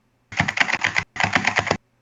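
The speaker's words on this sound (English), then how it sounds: "settling on a keyboard that sounds like this" Two quick bursts of rapid key clicks from a mechanical keyboard, each a little under a second, close and crisp with a short pause between them and no voices.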